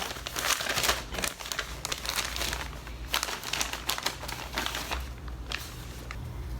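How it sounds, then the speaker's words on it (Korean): A yarn delivery package is torn open by hand, its plastic wrapping crinkling and crackling steadily and close up for several seconds, with no voice. "이번에도 우렌컴퍼니에서 택배 시켰습니다. 뜯어볼게요."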